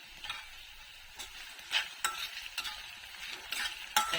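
Onions fry in a pan with salt and turmeric, stirred so a steady soft sizzle runs under repeated scraping strokes of the spoon, close and fairly quiet, with no talk, as part of making a carrot egg curry.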